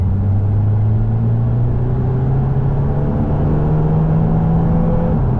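A Lotus Emira with a four-cylinder engine and an automatic gearbox is stuck in gear, so the engine drones loud and close at high revs and its pitch creeps steadily upward without a gear change.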